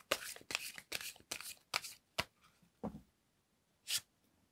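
Tarot cards shuffled and drawn during a love reading, a run of crisp riffling bursts in steady rhythm, then a few separate slaps and flicks as cards come out, close and alone without talk.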